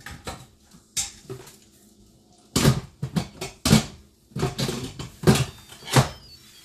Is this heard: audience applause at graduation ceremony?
no